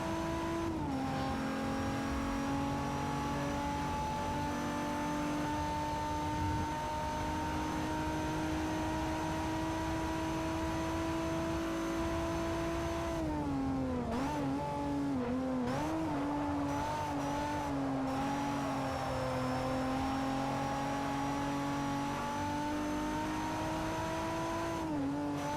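Peugeot 308 GTI engine in Forza Motorsport 4 droning steadily under load, pitch holding high and even, then briefly dropping and wavering mid-run before climbing back to a sustained hard-revving tone, with no talk.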